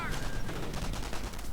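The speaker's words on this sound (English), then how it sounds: "MG42 joining in." MG42 machine gun in a World War II strategy video game firing a rapid, continuous burst of sharp cracks that stays loud and dense throughout the short stretch.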